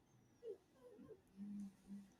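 A small dog with breathing problems wheezes and whimpers faintly, a few strained nasal squeaks and drawn-out raspy breaths, close but quiet.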